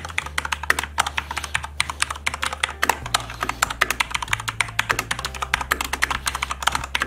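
Rapid, clacky keystrokes on a Corsair K95 RGB Platinum mechanical gaming keyboard, an uneven stream of sharp clicks close to the mic with a low steady hum underneath.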